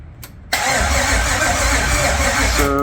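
A Gen 3 LS V8 cranks and catches after a brief quiet moment, jumping straight to a loud, steady, rumbling idle that holds close by, with a short tonal squeal near the end.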